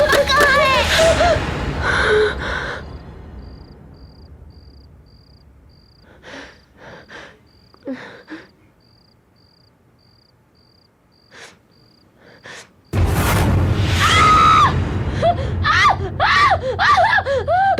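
Woman screams in fright in a horror show scene, a loud shrill piercing cry bursting in near the end after quiet cricket-filled night ambience with scattered gasps and breaths.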